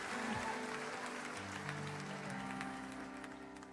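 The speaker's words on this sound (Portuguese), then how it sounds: "você aplaude aí, por favor." Church congregation applauding during a worship service, a steady wash of clapping with some voices and a sustained tone underneath, fairly even throughout.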